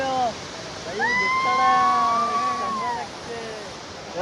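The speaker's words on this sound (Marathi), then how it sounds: "आम्ही आलो धबधबा." A waterfall's steady broadband rush fills the whole clip close by, while voices call and talk over the roar.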